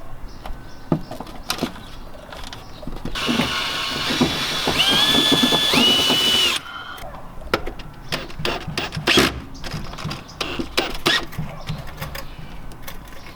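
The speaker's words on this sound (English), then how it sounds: "you pretty much just self tap it into your wheel well" A power drill whines steadily for a few seconds as self-tapping screws are driven into the wheel well of a Lexus GX470, with clanks and handling noises before and after.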